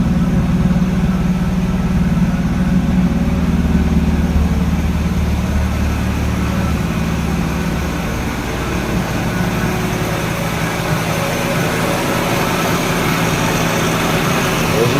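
A 1966 Ford Mustang inline-six engine idles steadily at about 1100 rpm in a workshop after tuning, a loud, close, even mechanical hum with a slight change partway through.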